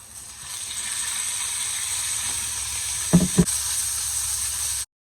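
Ground meat hits a pan of oil and fried shallots, giving a steady close hiss, a couple of stirring knocks near the end, then sudden silence.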